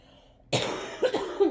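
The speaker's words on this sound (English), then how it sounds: "I was coughing so bad I didn't want to put you through that" A single harsh cough bursts out after a brief quiet moment, followed by a couple of rough, throaty hacks close to the microphone.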